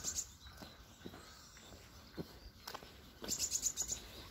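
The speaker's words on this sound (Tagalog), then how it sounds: "Umaawit yung ibon." Wild bird singing outdoors while hunting for jade stones, with short high chirps at the start and a quicker run of tweets near the end over faint rustling and footsteps.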